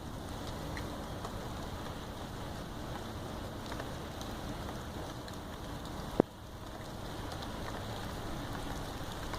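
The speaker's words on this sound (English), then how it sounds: "That's rain." Light rain makes a soft, steady wash of noise with faint wind, ending in one sharp click partway through before the hiss resumes.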